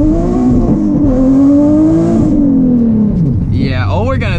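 Nissan 370Z launching on launch control held near 3,000 rpm, the engine droning steadily before rising and then dropping off, loud and close throughout, with a sweeping whine near the end.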